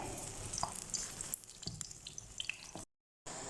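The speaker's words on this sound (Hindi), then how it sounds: "एग फ्राई कर रहे हैं।" An egg for egg fried rice fries in a pan with a faint, crackling sizzle and scattered pops and spatters, quiet and close, broken by a short gap of silence near the end.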